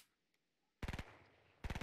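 Enemy gunfire in Fortnite Mobile comes as two short, loud bursts of rapid automatic shots after a near-silent pause, with a brief echoing tail between them.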